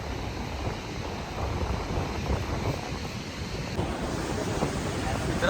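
Steady roar of ocean surf at a beach, continuous and close, mixed with wind buffeting the microphone and no clear talk.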